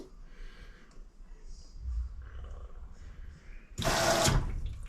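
An LG front load washing machine gives a short, loud gush of draining water near the end, following a quiet stretch of low rumbling and faint background noise.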